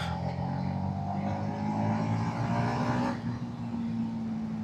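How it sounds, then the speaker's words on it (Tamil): Yamaha XSR 155 motorcycle exhaust note at higher RPM, a steady, gritty engine drone held for several seconds with a brief dip, loud and close throughout. "ஹையர் RPM போக தான் வந்து தலைவனோட இதுவே வந்து கொஞ்சம் கொஞ்சமாக அந்த கிரண்டினஸ் ஃபீல் ஆகுது எக்ஸாஸ்ட் நோட்டில்."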